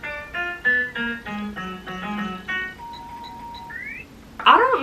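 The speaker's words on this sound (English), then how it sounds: "The doorbells." Bright doorbell-like chime tones ring out in a steady melodic pattern within a festive pop song, layered over a low bass line, followed by a rising tone and a brief noisy burst at the end.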